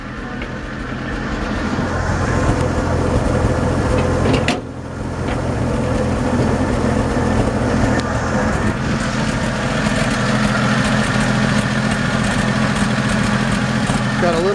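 A 1952 Chevrolet 3100 five-window pickup truck idles with a slight sputter, a steady low engine rumble close by that dips briefly midway, then settles back to its even running note.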